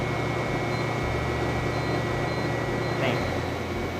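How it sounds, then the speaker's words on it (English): A pump running as its speed drops to 1500 RPM, a continuous low mechanical hum with a tonal drone whose pitch shifts slightly partway through, with a voice talking over it. "We're now going to change the pump speed and we're going to drop it"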